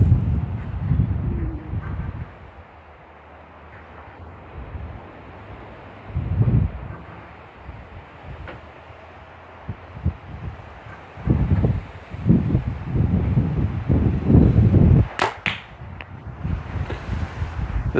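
Strong outdoor wind gusts, around 50 km/h, buffet a microphone in a backyard, with low rumbling bursts that swell and fade irregularly and get heavier toward the end, with no talking.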